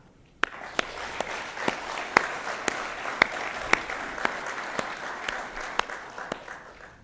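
Audience applause welcoming Kim Carr at an ATSE honorary fellow event, steady clapping from a mid-sized room starting abruptly and holding evenly, with a few sharp individual claps standing out.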